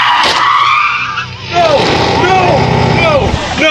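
Car tires squealing and skidding as a reckless driver loses control and wrecks, a loud, continuous screech with sweeping pitch over engine noise, close and harsh throughout.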